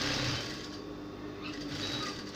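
A sewing machine runs steadily while stitching the seam of an A-line gown with a 1.5 seam allowance, a fairly quiet, even mechanical whir that carries on without pause.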